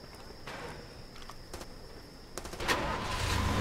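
A vehicle engine starts in the video game Far Cry 2, with a few clicks and clunks before a rising, steady engine hum builds toward the end, moderately quiet and without talk.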